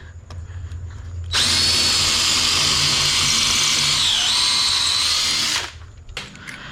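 A regular power drill whines loudly and steadily for about four seconds as it widens a hole in a concrete wall, starting and stopping abruptly.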